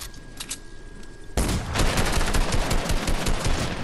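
Gunfire in the video game Fortnite, starting with a few lighter shots and then breaking into a loud, dense, continuous burst of rapid fire.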